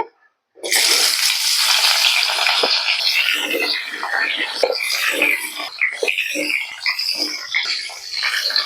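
Sajne data drumsticks drop into hot oil after a brief silence, setting off a sudden loud, crackling spatter that continues as a busy, uneven sizzle with sharp pops, close at hand.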